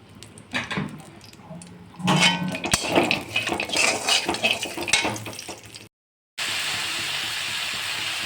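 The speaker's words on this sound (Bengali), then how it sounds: "এঁচড়টা গরম তেলের মধ্যে ঢেলে দিয়েছি এই যে।" Green jackfruit is tipped into hot oil in a kadai, setting off a burst of sizzling and clattering, with scraping and metallic clinks around it, then a brief gap before a steady loud frying hiss.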